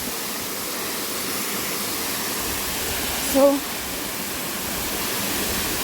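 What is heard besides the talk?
Ng Tung Chai waterfall, water rushing from the main falls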